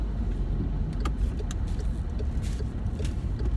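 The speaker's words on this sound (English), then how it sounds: "This pickup truck literally just tried to pull into me, not in front of me, into me." Pickup truck pulling in close on a road: constant low engine and tire rumble of traffic, steady and fairly loud, with faint clicks and rattles on top and no talking.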